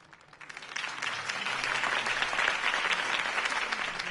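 A crowd claps and cheers after a Harvey Dent campaign speech in a video game. The dense applause swells in over the first second, then holds steady and full with no talking.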